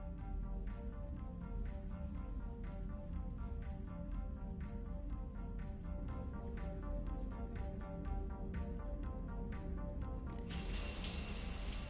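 Shower water runs continuously in Mass Effect 3, a steady splashing rush with faint background music tones, growing brighter and hissier near the end.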